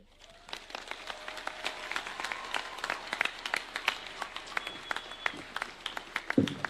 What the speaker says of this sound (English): Another round of applause for the Chancellor, Cooperative University, Dr. Bernard Chitunga